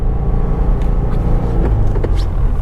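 Steady low engine rumble from a 2020 Subaru WRX while driving, a constant close drone with road noise throughout and no talking.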